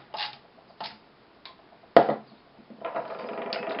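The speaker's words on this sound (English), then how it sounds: "Now I'm tightening down my screws since I have the top of the casing seated correctly." Screws are tightened on the casing of a KitchenAid 600 Series stand mixer: four short, close ratcheting clicks spaced about half a second apart, then a softer, longer grinding turn at the end.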